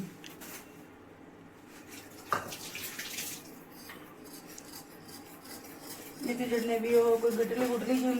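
Tamarind water is strained and poured in a home kitchen for a chickpea dish, with light trickling and rubbing sounds that build into a steadier flow near the end while a person talks over it.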